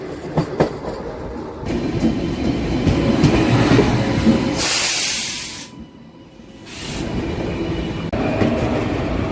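A passenger train runs on rails while entering Gooty Junction on a Kadapa to Kurnool trip. Steady close rumble and wheel clatter fill the clip, with bursts of hissing air, a brief lull, and no talk.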